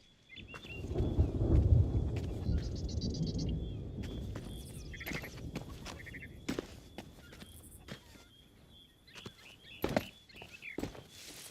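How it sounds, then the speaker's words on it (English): A video game thunderstorm with a low rolling rumble of thunder that fades out, followed by scattered sharp thuds and knocks, fairly quiet overall with no talking. "Can't say as I could care for the sound of that storm coming"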